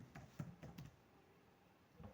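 Typing on a computer keyboard while entering an Excel formula: a few soft, quick key clicks in a short burst, a pause, then one more tap, close and quiet.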